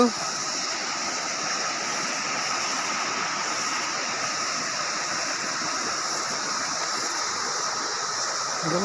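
Steady broadband rush of flowing water from a forest waterfall between two hills in Similipal forest, constant and fairly loud throughout with no clear breaks.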